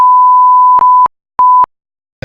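A loud electronic censor beep, a steady tone with one long burst followed by two short ones, cuts off sharply into silence.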